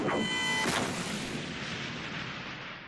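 A combat shotgun blasts on full auto in DOOM Eternal, a heavy booming discharge with a quick second shot, followed by a long rumbling echo that slowly fades.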